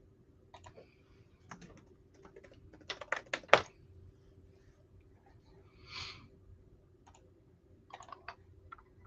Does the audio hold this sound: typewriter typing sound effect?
yes